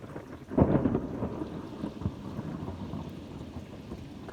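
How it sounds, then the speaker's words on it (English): Thunder from a lightning strike in a severe thunderstorm booms near and loud, then rumbles on under steady rain. "Yeah, this lightning is kind of, whoa. That was a big strike."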